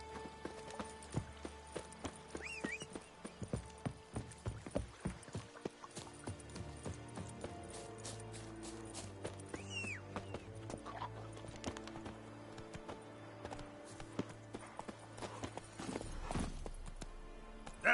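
Hooves of a horse in The Witcher 3 video game clip-clop in a steady galloping rhythm throughout, with an occasional whinny, close and clear, no talking.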